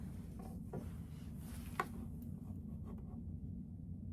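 Quilt backing fabric, a 108-inch-wide length, is torn by hand after a short starter cut, giving a faint, soft, continuous ripping rasp with one small click partway through.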